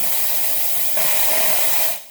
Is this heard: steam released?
yes